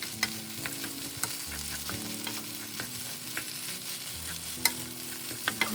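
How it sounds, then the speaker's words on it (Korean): Stir-frying kkakdugi (radish kimchi) fried rice in a pan: steady sizzling with scraping spatula strokes and occasional sharp clinks, close and continuous, no voices. "오늘은 야근이라서 혼자 깍두기 볶음밥 만들었어요"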